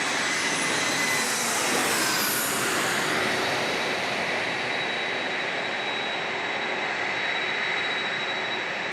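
A plane arriving at San Diego International Airport from LAX roars with a steady, broad jet rumble close by. The engine whine sweeps through as the aircraft passes, then settles into an even drone.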